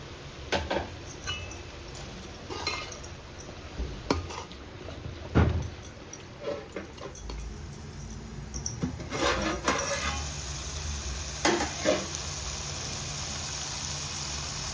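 Chopped mushrooms tossed into a pan of fried onions and cooked-down tomatoes for mushroom biryani, with a steady low sizzle and scattered clinks and scrapes of a spoon stirring against metal.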